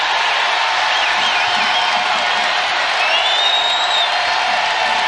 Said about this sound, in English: Listen to this place roar.